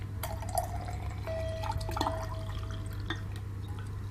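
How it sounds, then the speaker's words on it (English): Mineral water trickles and drips into a glass with light splashes and a rising tone, over a low steady background hum. "I'm going to drink a little mineral water here."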